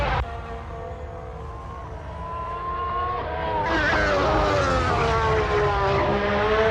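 A McLaren race car on track during Formula 1 pre-season testing, its engine tone rising and climbing through gears as it approaches, loud and sustained with a brief shift partway through.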